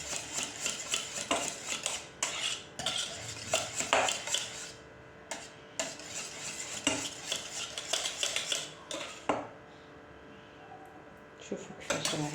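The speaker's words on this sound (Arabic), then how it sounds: "نحركو مليح حتى تذوب هنا" Cheese being stirred in a metal pot until it melts for kunafa, with repeated spoon scrapes and clinks against the pot, near and steady, and a soft sizzle underneath.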